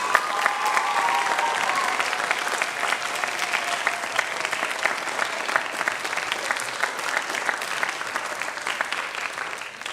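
Junior school pupils at a graduation give their Year 6 tutors a big round of applause, dense sustained clapping from many hands filling the room evenly for the whole stretch, close and loud.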